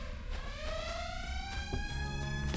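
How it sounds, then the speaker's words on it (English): Alarm siren from an indie video game alerting enemies across a level, a rising, wailing electronic tone that sweeps upward repeatedly over a low background hum, moderately loud and alone. "when spotted, a siren calls for all enemies within the level to come running out looking for you"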